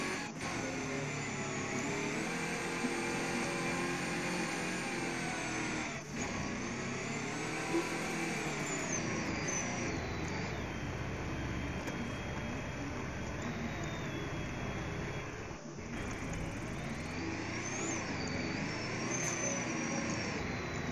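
A vehicle driven in the Roblox game Prison Life gives off a steady, loud engine drone with a thin high whine on top. It dips briefly twice but otherwise holds an even hum throughout.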